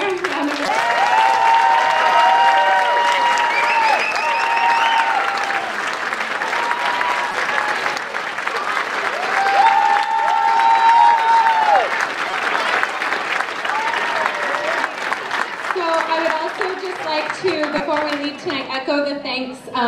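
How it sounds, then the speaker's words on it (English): Audience applause fills a school auditorium after a 5th grade orchestra and chorus concert, sustained and fairly loud throughout, with voices and cheers mixed into the clapping. "let's give them one more round of applause"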